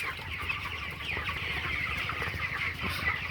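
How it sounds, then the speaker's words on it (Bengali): Chickens cluck steadily and close by while one of them is caught by hand on a farm, a dense flurry of overlapping hen calls with scuffling underneath. "বড় একটা মুরগি ধরছি"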